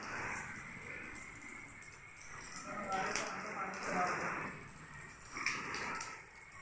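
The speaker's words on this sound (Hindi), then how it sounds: "बारिश कभी हल्की हो जाती है, कभी तेज़ हो जाती है" Rain falls steadily outdoors under dark clouds, a dense hiss of drops hitting surfaces that swells and eases, with someone talking over it.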